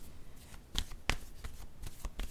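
A word card is drawn from a deck, giving soft papery shuffling and flicking with a few sharper snaps, close and quiet, heard alone without speech.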